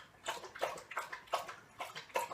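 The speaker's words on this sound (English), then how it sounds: "you hear my dog drinking water as soon as I decide to make a video." A dog laps water in a quick steady rhythm, about six soft slurping bursts in a row, close and fairly quiet with no talking.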